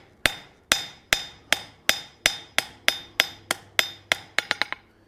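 Hot steel bar stock being forged into a nail taper on an anvil: a dozen loud, sharp hammer blows at a steady rhythm, ending in a quick flurry of lighter taps.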